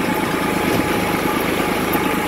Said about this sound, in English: We're actually on the tractor